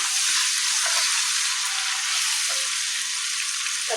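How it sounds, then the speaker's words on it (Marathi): Ginger garlic paste frying in a hot pan, a loud, dense and continuous sizzle close up, with a few faint clinks near the pan. "सो पयलीं न्हू आले लसूण पेस्ट घालता हांव हितून."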